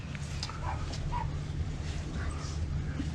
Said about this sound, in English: Ruby, Ruby, Who's a puppy dog? come on, come here